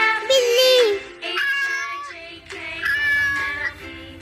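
A cat meows three times, long drawn-out and tonal cries, loud and close, each separated by a short pause.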